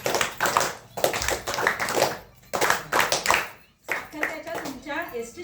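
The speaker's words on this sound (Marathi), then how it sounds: "त्यांच्यासाठी एकदा जोरदार टाळ्या वाजवा" An audience at a women's empowerment event claps in uneven bursts, loud and close, with brief lulls between rounds and faint chatter underneath toward the end.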